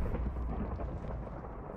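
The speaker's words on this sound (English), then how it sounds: "that's thunder. That is thunder right there, dudes." Thunder in the Minecraft video game gives a steady, dense low rumble that holds for the whole stretch without a break, moderately loud and with no talking over it.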